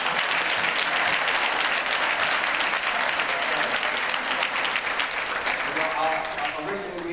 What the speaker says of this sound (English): Let's give our brother another thunderous round of applause.